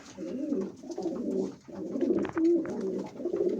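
Several pigeons cooing close by in soft, rolling phrases that overlap, with brief pauses between bursts and faint rustling.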